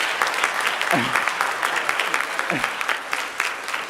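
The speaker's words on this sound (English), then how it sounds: "clap for her" Steady audience applause fills a school orchestra concert hall, with dense continuous clapping throughout and a voice or two briefly rising beneath it.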